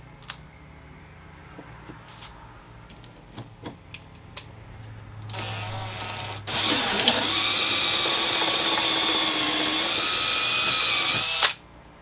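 Scattered clicks and taps, then an electric drill whirs up loudly and grinds steadily for several seconds boring a hole, using a drill guide, before stopping abruptly.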